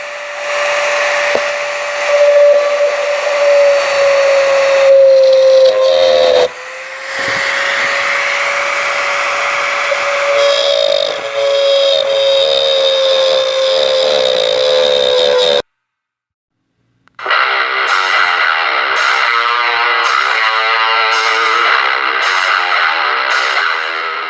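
A Dremel rotary tool fitted with a small cutoff wheel grinds a hole through a truck's rear bumper, a loud, steady high-pitched whine with shifting pitch, broken by a brief pause before the cutting resumes with rhythmic surges.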